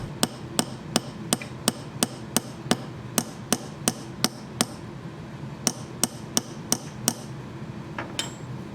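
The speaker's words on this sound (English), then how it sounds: "Give the rivet a few taps to begin to form the head." Hammer tapping a metal rivet to form its head, about twenty sharp, evenly spaced metallic taps at a steady rhythm, close and clear, with a brief pause near the middle and a softer tap at the end.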